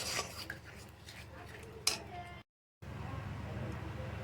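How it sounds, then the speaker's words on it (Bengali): Prawn malai curry with coconut milk being stirred in a pot: soft scraping and clinking of a spoon against metal, a sharp clatter near the middle, then a brief silence and renewed low stirring. "এবার পুরোটা ছেঁকে দিয়ে দেবো দেখো অল্প একটু দিয়েছি নাড়িয়ে দিচ্ছি"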